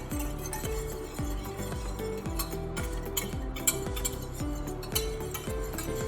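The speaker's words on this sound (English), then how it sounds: "then just whisk all of this together" A whisk beats homemade blackened-catfish seasoning with salt in a bowl, giving steady rhythmic clinks and scrapes of metal against the dish, close and continuous with no talking.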